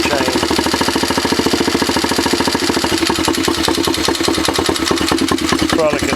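A Chinese 110cc ATV engine idles low with a valve issue, producing a rapid, steady, close mechanical chugging with a ticking, tapping clatter layered over it throughout.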